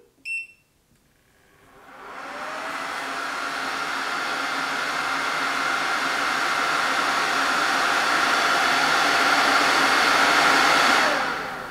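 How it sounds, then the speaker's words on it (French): An Anycubic Photon Mono M5s resin 3D printer runs a screen exposure test with no resin vat fitted, giving a loud, steady broadband fan roar that holds for about ten seconds after a few short beeps and stops abruptly. "Cette machine est bruyante, très bruyante quand elle imprime."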